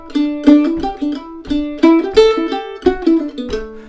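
Mandolin picks out an improvised melodic line in a steady stream of bright, plucked notes with short sustains and occasional double-stop accents, played solo without any voices.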